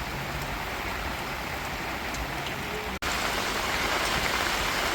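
Heavy rain pours down in a strong windstorm, a dense, steady hiss of downpour that fills the whole stretch, loud and unbroken apart from one momentary dropout, with no voices.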